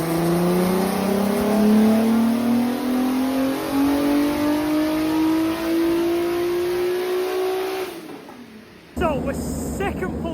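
A VW Caddy sleeper engine revs hard on a dyno, climbing steadily in pitch for about eight seconds before cutting off, followed by a brief lull and then a burst of rough, uneven revving close by.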